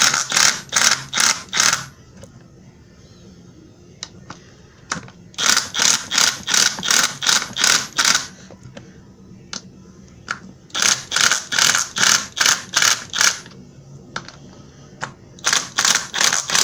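A ratchet snugs bolts on the clutch fan of a 1994 Ford Ranger, loud close bursts of rapid clicking separated by short pauses, repeated several times with faint taps and handling in between.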